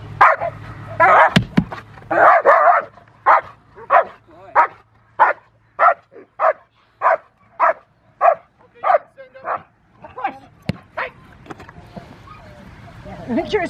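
Rottweiler barking in a steady run of about a dozen loud, evenly spaced barks, with people talking nearby before and after.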